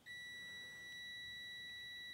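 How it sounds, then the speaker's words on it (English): A multimeter continuity tester gives one steady, high electronic beep, held unbroken and clear while checking a furnace flame rollout switch with alligator clips, with no voices. "you should hear your audible beep, which indicates continuity"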